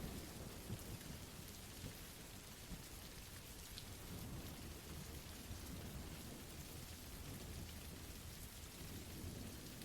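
Steady, dense rain pours down with low rumbling thunder beneath it, a continuous even wash of sound with no voices.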